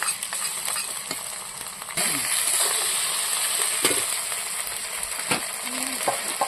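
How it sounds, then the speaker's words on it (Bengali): Ginger-garlic paste hitting onions already fried red in a pan, setting off a steady loud sizzle that jumps up partway through, with scattered clinks and stirring scrapes; no one speaks. "পেঁয়াজটা লাল লাল করে ভেজে নিয়েছি এখন আমি এখানে বেটে রাখা আদা আর রসুন মশলাটা দিয়ে দেবো"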